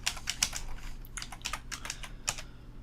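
Quick bursts of computer keyboard typing as someone types a color value into website theme settings. The key clicks are close and crisp and arrive in an uneven rhythm, with no voices.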